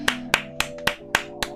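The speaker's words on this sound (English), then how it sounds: "Round of a fucking applause." Six sharp claps ring out in a steady, evenly spaced rhythm from a single pair of hands over a quiet music bed.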